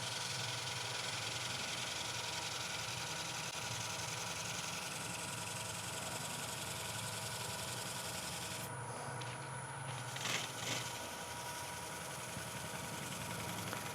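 A wood lathe spins a hollow form at about 650 RPM during friction polishing, giving a steady, continuous whirring hum with a faint rubbing hiss. It is close and unbroken throughout, with no talking.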